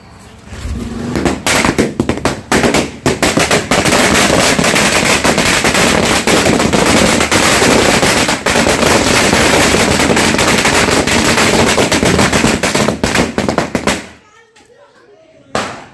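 A Kannan 1000 wala string of Sivakasi firecrackers bursting in a long, rapid, loud crackling barrage for about fourteen seconds, then cutting off abruptly into near silence.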